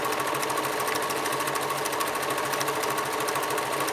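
A sewing machine stitching a fabric jam jar cover with red thread, a fast, even mechanical rattle running continuously and close with no talk.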